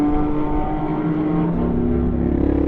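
A GT Cup Series race car enters the pit lane at Autodrom Most; the engine gives a steady, loud, buzzing drone with a slight pitch shift partway through.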